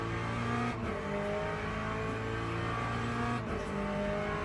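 Race car engine in Le Mans Ultimate holding a sustained droning whine with brief dips as gears shift, steady and fairly loud with no voices over it.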